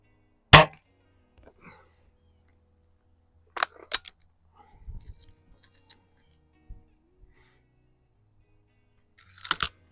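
Beeman R7 air rifle fired at range targets, several sharp isolated cracks spaced seconds apart, a pair close together mid-way, with faint clicks and handling noises between in otherwise quiet surroundings.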